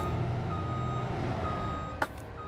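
A truck's reversing alarm beeps steadily in Farming Simulator 25, a repeating tone over engine rumble, followed near the end by a short sharp hiss like an air brake.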